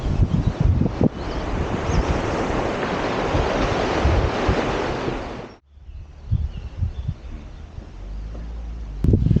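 Broad, steady rushing water roars close by as it flows over a river weir on the way from Milldale to Dovedale, then drops away to a quieter outdoor hush with faint wind buffeting.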